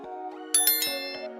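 A notification bell rings out in a short sequence of bright metallic dings, several quick chimes ringing over a sustained tonal tail, clear and alone.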